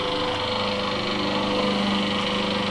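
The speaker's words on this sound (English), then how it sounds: "I really got to finish blowing the grass." A gas-powered leaf blower clears cut grass during lawn landscaping work, holding a steady, loud engine drone with a high whine that runs unbroken and close by, with no talking.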